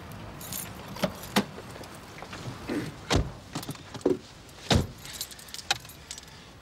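A large bunch of keys jangles and clinks in several sharp bursts, close and fairly loud, with faint shuffling between the metallic shakes.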